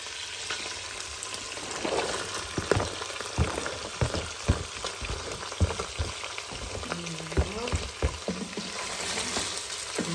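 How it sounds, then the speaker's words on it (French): Meat and onions fry in a pan with a steady, close sizzle, punctuated by repeated scraping and stirring knocks from a utensil, with no talking. "je vais faire revenir la viande. Et maintenant on rajoute quand même les oignons à l'intérieur"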